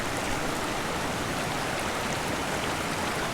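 Creek water rushing over rocks at a tenkara fly-fishing spot, a steady close broadband wash that holds evenly for the whole stretch with no voices.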